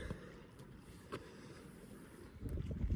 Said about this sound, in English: you can probably hear, the wind has picked up